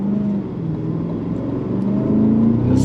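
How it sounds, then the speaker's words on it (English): A Cadillac CT5-V Blackwing V8 revving up, a loud, close, steady engine drone that climbs slightly in pitch over a few seconds. "the engine revs up nice and quickly"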